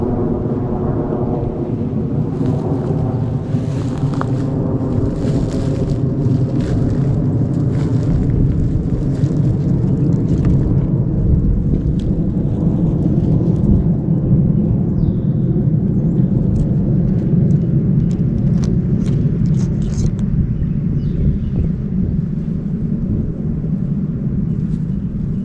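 Airplane passing overhead at a Florida state park beach, a loud continuous droning rumble that holds steady throughout, mixed with gusty wind noise that masks the ocean waves.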